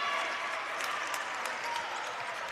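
Crowd at a boys' basketball championship game applauding a made free throw, dense steady clapping and cheering filling the gym at a moderate level.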